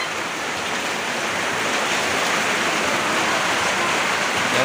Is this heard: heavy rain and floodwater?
yes